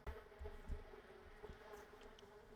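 Bees in a video game garden buzzing faintly in a continuous low drone, joined by a few soft thumps and no voices.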